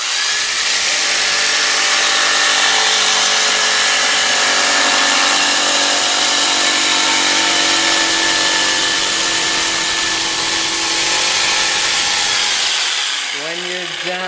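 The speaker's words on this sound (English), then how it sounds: "So you're going to do all 3 cuts before you give your jigsaw to anyone." A jigsaw making a rough cut through wood, heard as a loud, continuous, close buzzing drone with a steady pitch. It stops near the end and a voice follows.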